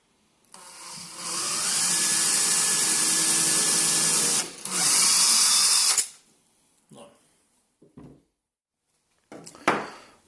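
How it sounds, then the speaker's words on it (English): A power drill guided by a drilling jig runs in one loud, steady whine for several seconds, then cuts out. A few faint knocks and taps follow in the quiet afterward, with no talk. "drill exactly where I wanted."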